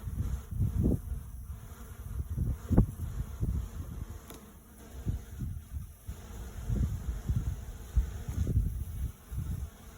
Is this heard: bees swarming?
yes